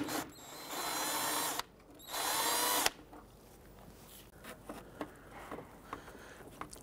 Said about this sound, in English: We'll use our 10mm socket, loosen and remove this bolt.